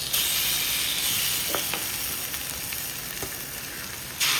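Chicken coated in masala fries on a slow flame in a pan, a steady soft sizzle and hiss with a few faint stirring clicks, close and alone.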